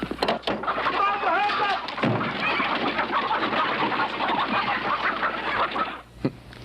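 Chickens cluck and squawk in a busy, overlapping flurry in a film scene, loud and close, with a thump or two and a brief sharp knock near the end.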